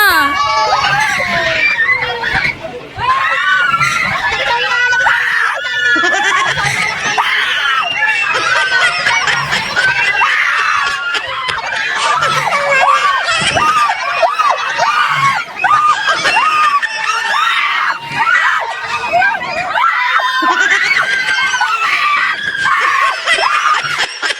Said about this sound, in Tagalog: Sobrang lakas at OA nga kasi ng sigaw ko dyan